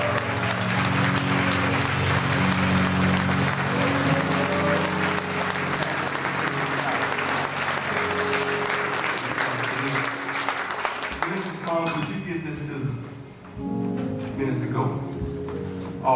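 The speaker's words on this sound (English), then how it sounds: "give them another round of applause" A church congregation applauds warmly in a steady, sustained wave of clapping that fills the room, continuing loud and dense before thinning out toward the end as a few voices and musical tones emerge.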